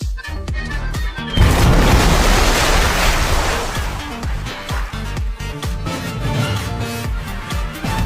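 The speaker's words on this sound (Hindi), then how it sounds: "झील पर एक बूढ़ा पटाखे चला रहा था।" An old man sets off fireworks on a lake in an action film. Scattered pops come first, then a loud sustained crackling burst with rumbling booms, fading into intermittent thuds.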